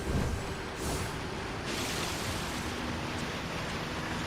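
Steady broadband rush of falling water from a waterfall in the video game Okami, a continuous dense roar with no voices, even and unbroken from start to finish.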